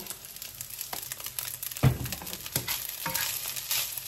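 Fried rice seasoned with spices and salt sizzles in a pan, with a steady crackling fry and occasional scrapes and stirs of a spatula, close and clear, no voices.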